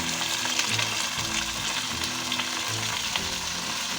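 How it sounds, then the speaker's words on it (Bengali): Shredded cabbage sizzles loudly in a pan with frying onion and garlic, a steady dense crackle with occasional stirring scrapes and no voices. "এবার বাঁধাকপিটা দিয়ে দিলাম পেঁয়াজ রসুন ভাজার মধ্যে"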